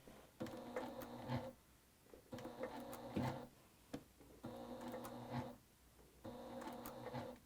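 Sewing machine stitching slowly through thick stacked fabric layers, a quiet mechanical whir with steady needle clatter in four separate runs, each about a second and a half long and separated by short pauses, with no talking.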